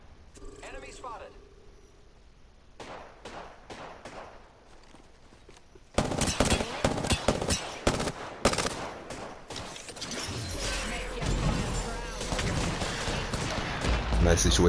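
Gunfire in the video game Apex Legends: loud, rapid bursts and single shots cracking repeatedly, quieter and sparser at first, then dense and intense with a steady battle roar underneath.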